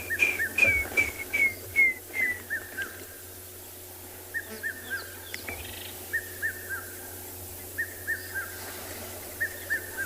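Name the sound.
water thick-knee calling near the water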